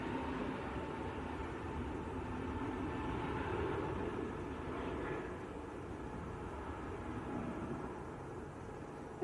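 An Airbus A320neo airliner at Manchester Airport gives a steady, fairly distant engine roar that swells slightly mid-way and then holds, continuous over the whole stretch with no talk.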